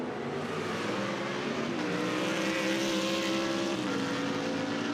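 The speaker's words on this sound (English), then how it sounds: "The BMW blasts its way out of the first chicane" A BMW GT race car accelerates hard out of the first chicane at Monza during a Blancpain Endurance Series race, its engine note loud and steady and rising through the revs for the whole stretch, with no voices over it.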